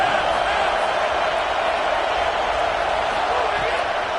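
A packed stadium crowd roars at a UCF college football game, with a loud, steady, unbroken wall of cheering from start to finish.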